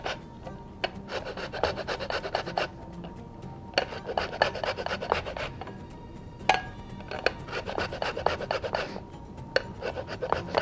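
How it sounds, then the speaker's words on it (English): Fresh orange zest grated against a hand grater, repeated rasping strokes in quick bursts with short pauses between them, close and fairly loud, no voices. "whenever you're grating an orange, you don't want to get in too much of the white"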